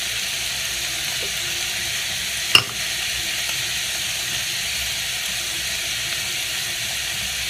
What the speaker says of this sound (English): we're going to saute you until the onions are soft